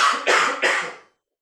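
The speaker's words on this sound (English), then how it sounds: "I get a coughing spell that just won't seem to stop" Three harsh coughs come in quick succession during a ghost-hunting visit to the Parry Mansion, close and loud, then stop abruptly into silence.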